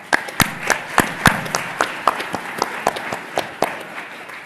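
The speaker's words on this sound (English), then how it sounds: "So let's give a round of applause for Adrian Martin." Clapping at a community event honoring young men from partner organizations, a sparse round of distinct, loud claps with an uneven rhythm, close by and with no voices over it.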